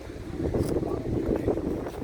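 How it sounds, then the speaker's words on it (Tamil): Sea wind blows steadily at the Mamallapuram seashore temple in India, a continuous low rushing buffet against the microphone with no pauses, filling the short stretch with broad gusty noise. "கடல் பக்கத்துலேயே இருக்கிறதுனால எப்பயுமே பார்த்தீங்கன்னா இந்த காற்று வந்து வந்துகிட்டே இருக்கும்."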